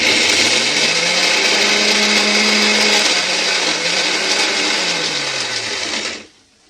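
Mixer grinder whirring loudly as it coarsely grinds a masala paste for a leftover-chapati recipe, a steady high motor whine with shifting pitch that cuts off abruptly near the end.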